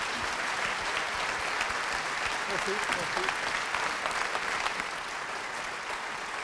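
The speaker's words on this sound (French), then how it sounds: "je crois que toute la salle peut vous applaudir pour cette magnifique conférence" An audience applauds at the close of a lecture, a full hall clapping steadily and densely throughout at moderate level, with a brief spoken thanks over it.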